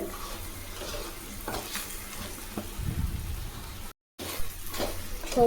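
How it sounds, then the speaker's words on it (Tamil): Brinjal sautéing in oil with chilli powder, salt and masala, a soft continuous sizzle broken by stirring scrapes, with a brief dropout near the end. "அது வெளியே கொஞ்சம் ஒரு அஞ்சு நிமிஷம் வதக்குங்க இதை"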